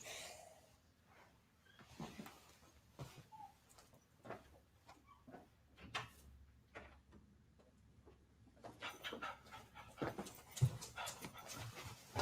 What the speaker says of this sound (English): Can you guys hear that dog in the background?